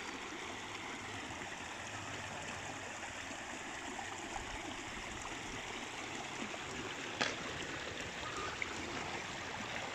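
A stream of water runs over rocks at a forest bathing spot in Sta. Maria, Laguna, flowing as a steady, even rush that fills the whole clip with no voices over it.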